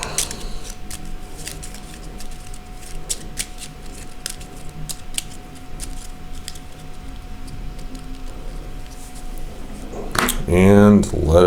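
A deck of cards is shuffled for the Dustrunner board game, making light, crisp, irregular clicks and flicks close by; a voice comes in briefly at the end.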